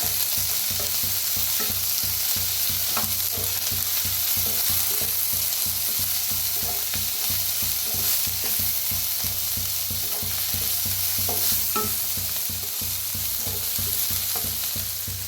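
Tomato, onion and spring onion with turmeric and red chili powder fry in a pan, a steady loud sizzle with a regular rhythmic scraping of the spatula and a low hum underneath, with no talk.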